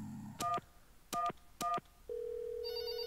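Telephone keypad tones in a video game: three short, evenly spaced dialing beeps, followed by a steady tone and then a brighter ringing tone, clear and close with no talk.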